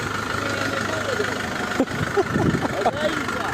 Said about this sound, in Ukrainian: Зараз вторий буде газувати.